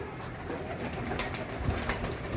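Loft pigeons, including a pearl-eyed bird, murmur and coo faintly amid a hissy, noisy background, with soft shuffling and flutter sounds close by.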